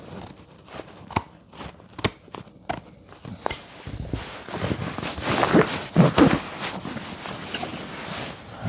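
Scissors snip through a leather corner sofa cover in a series of sharp, close cuts, followed by louder crunching and rustling of the material.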